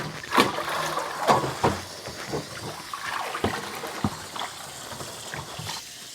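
Cold tap water runs over freshly blanched garden peas being cooled for freezing, heard as an uneven close splashing and trickling with several sharper bursts of spatter.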